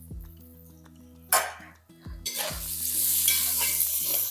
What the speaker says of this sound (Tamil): வெங்காயம் கொஞ்சம் கலர் மாறட்டும் அந்த அளவுக்கு நல்லா வதக்கிக்கலாம்